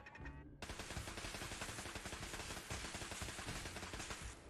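Rapid automatic gunfire in Fallout 4, a dense, continuous burst of shots that starts abruptly and keeps hammering at high volume until it ends.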